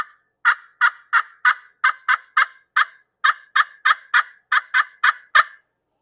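A slate turkey call, struck with friction, produces a series of short, sharp yelps in an even rhythm, about sixteen clucking strikes, clear and close.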